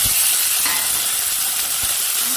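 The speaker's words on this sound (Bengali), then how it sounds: "এবার টমেটো কুচনোগুলো দিয়ে দিব।" Chopped tomatoes hit onions frying in oil for matar ghugni, setting off a loud, bright, continuous sizzle and hiss with no talking over it.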